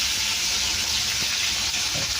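Chopped onions sizzle in a hot pan, a steady, loud broadband hiss that holds evenly throughout with a few faint clinks underneath.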